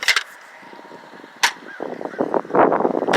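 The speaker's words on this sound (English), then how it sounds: "I'm going to fire all 6 darts." A Nerf Elite 2.0 Commander fires a run of foam darts, each launch a sharp snap, with a burst near the start, one at about a second and a half, then several quick shots clustered toward the end amid handling clatter.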